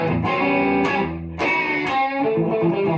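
A driven, crunchy electric guitar through a Fractal FM3 rings out in chords and single notes, with sustained overdriven tone and no voices.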